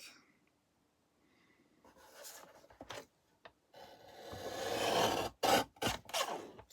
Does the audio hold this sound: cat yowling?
no